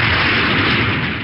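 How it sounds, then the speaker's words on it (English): A recorded sonic boom, a loud sustained rumbling blast that fills the whole moment with heavy, rolling low-end roar and no break. "We found this sonic boom online."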